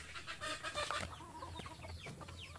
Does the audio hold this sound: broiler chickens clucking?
yes